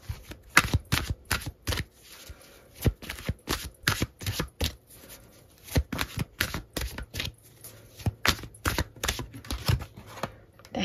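Tarot cards are shuffled by hand in a run of quick, crisp riffling bursts, each a brief papery flutter with short pauses between, close and fairly quiet.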